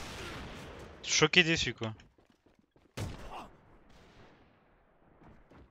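Two sharp sniper rifle shots in the online shooter A.V.A Global, one crackling burst early and a second crack a moment later, each followed by quiet, with a French-speaking player briefly talking.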